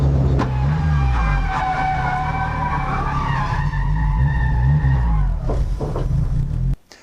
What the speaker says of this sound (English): the front left wheel suddenly locked up while I was driving out on track